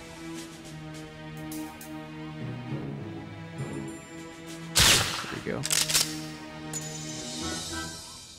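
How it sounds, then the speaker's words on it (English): Several sharp gunshots from 007: Nightfire crack out in a quick cluster partway through, over a steady droning musical soundtrack. "So these guys just don't hear these gunshots?"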